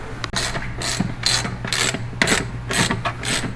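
A ratchet tightens the single top bolt on a Dodge Dakota front bumper bracket, giving about six quick bursts of close, loud clicking separated by short pauses, with no one talking.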